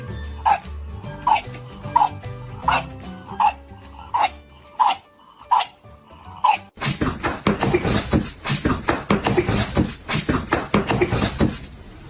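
A dog gives a run of short, evenly spaced yelps and whimpers, then breaks into a faster, louder burst of excited barks and whines heard close up.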